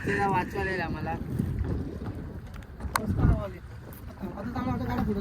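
Steady wind gusts roar and buffet the microphone during a boat ride on open water, loud and continuous, while voices talk underneath.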